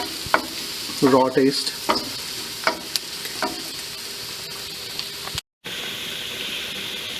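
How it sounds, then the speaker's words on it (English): Coriander and turmeric powder frying in a hot pan for an okra masala, with a steady sizzle broken by stirring scrapes and a brief burst of spatter, while a voice speaks briefly. "I'm going to just cook it a little bit so that the coriander powder and the turmeric powder, they get cooked in the heat"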